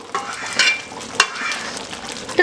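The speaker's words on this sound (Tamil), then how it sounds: "இதை நம்ம முந்திரி பருப்பு இதெல்லாம் போட்டிருக்கிறதுனால இதை ஒரு கிளறி விட்டுக்குங்க" Cashews and a side dish frying in a pan while being stirred, with a steady sizzle broken by a few sharp scraping clicks of the spoon against the pan.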